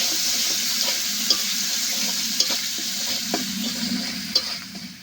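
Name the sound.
stirring and frying ground spices in a pan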